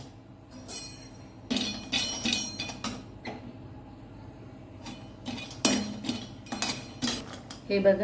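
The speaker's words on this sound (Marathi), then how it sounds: "त्यामध्ये हे काजू बदाम भाजून घेऊया" Cashews and almonds stirred in a spoonful of ghee in a kadhai, with a metal spoon clinking and scraping against the pan in irregular bursts, close by, and a brief spoken phrase.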